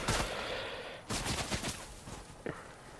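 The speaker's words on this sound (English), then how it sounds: "Who the hell's shooting me?" Fortnite gunfire arrives in quick bursts: a rapid volley at the start, a longer rattling string of shots in the middle, and a short final burst, all moderately close with brief gaps between them.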